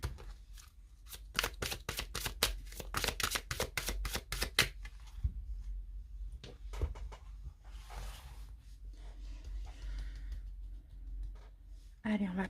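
Oracle cards are shuffled in quick, crisp riffling bursts, close and fairly loud, then slower handling and soft card sounds, with a person speaking at times.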